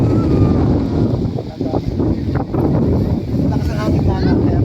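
Strong wind gusts across the microphone on Crystal Cove Island in Boracay, a loud, constant rumbling buffet, with voices talking faintly underneath.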